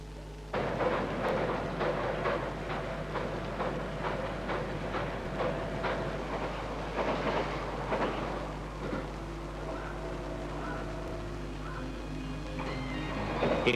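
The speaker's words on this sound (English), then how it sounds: "The Shinkansen has revolutionized travel in Japan" A Shinkansen bullet train travelling in Japan, a steady rumbling rush with rhythmic clacks over rail joints, continuous and moderately loud across the whole stretch.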